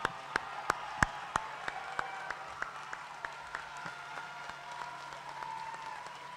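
High school graduation crowd clapping for the graduating class in a large hall, with a few loud, sharp, evenly spaced claps up close standing out over softer, scattered applause from further away, all of it easing off.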